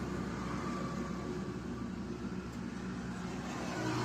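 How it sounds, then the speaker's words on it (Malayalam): A lorry cruises along a highway, overtaking small vehicles, with a steady, loud engine drone and road roar heard from inside the cab throughout. "ചെറിയ വാഹനങ്ങളൊക്കെ നമ്മളിങ്ങനെ ഓവർടേക്ക് ചെയ്ത് ഇങ്ങനെ പറന്ന് പോകുന്നുണ്ട്"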